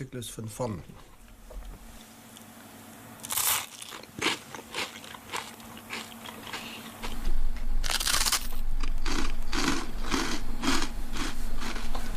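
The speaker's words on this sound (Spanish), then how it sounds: "El sonido que los humanos y animales hacen al masticar" Crunchy food being chewed: loud, close bites and a rapid run of crackling crunches that build into a steady chewing rhythm, alone without talk.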